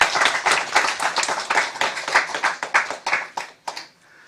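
Church congregation clapping in a close, lively round of applause with audible individual claps, thinning out and fading to silence near the end.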